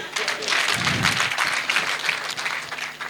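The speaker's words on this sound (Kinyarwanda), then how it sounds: "reka namwe bakomera amashyi." Sustained crowd clapping at a Rwandan wedding, a dense, even patter of many hands with a faint voice briefly audible underneath.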